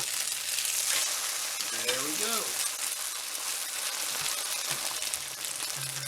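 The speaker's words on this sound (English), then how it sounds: "we're going to let that cook for a couple minutes on each side" A shrimp egg foo young patty fries in a pan with a loud, steady sizzle and crackle throughout, and a brief voice in the background partway through.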